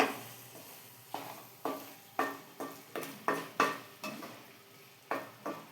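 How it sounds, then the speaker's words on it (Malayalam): Jackfruit aviyal curry stirred in a pot, Kerala style, with about a dozen rhythmic, close scraping strokes of a spoon against the pot and no voices. "ഒഴിച്ച് അത് യോജിപ്പിച്ചു കൊടുക്കാം യോജിപ്പിച്ച് ഇറക്കി വെക്കണം"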